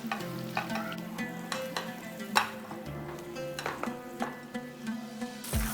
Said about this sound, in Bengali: ফুলকপিটা মোটামুটি ভাজা হয়ে গিয়েছে